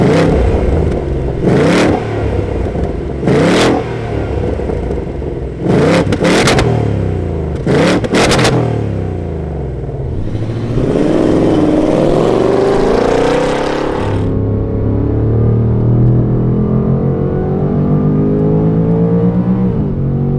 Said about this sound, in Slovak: zakončený obrovskými 4 koncovkami výfuku, ktoré produkujú taký hluk